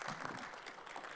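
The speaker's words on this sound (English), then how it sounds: "A round of applause for David again, please." A brief, faint patter of audience clapping at a planners' symposium in Guam.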